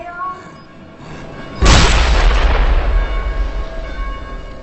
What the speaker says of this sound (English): So let's see if I can get him with the sticky bomb.